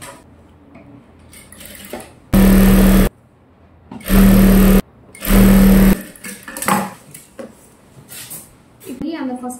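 A sewing machine stitches a gown's lining in three loud bursts of rapid whirring, each lasting under a second, with quiet gaps between them and a voice talking quietly around the bursts.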